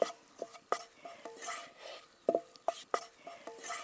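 Flour being stirred into melted butter in a pan for caramel milk pudding, faint sizzle under a series of crisp spoon scrapes and clinks against the metal, close up, irregular and quiet, with no voices.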